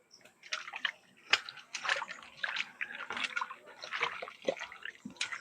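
Cut mango pieces for a pickle are rinsed and rubbed by hand in water, giving soft repeated splashes, drips and sloshing at close range, fairly quiet and without speech.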